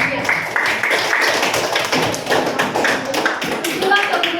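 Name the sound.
applause for a student group in a classroom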